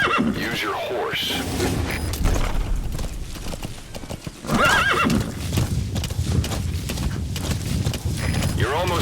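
A horse in Metal Gear Solid V: The Phantom Pain gallops with steady clip-clop hoofbeats and lets out loud neighs at intervals, set against game ambience and a voice speaking.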